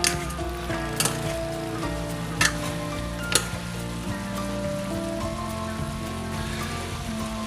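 Vegetables for Filipino bulanglang with shrimp paste sizzle steadily in a pot as they are stirred, with a few sharp scraping clicks from the spoon and tonal hums underneath; no talking.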